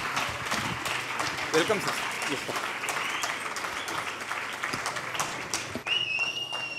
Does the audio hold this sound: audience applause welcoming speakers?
yes